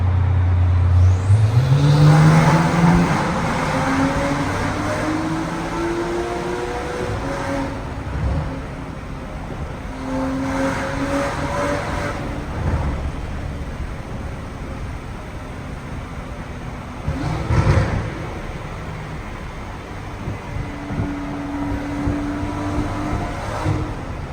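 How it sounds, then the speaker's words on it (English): A car engine revs up and settles repeatedly, a loud steady exhaust roar with rising and falling pitch sweeps, heard up close. "Got an opportunity here to hear the exhaust."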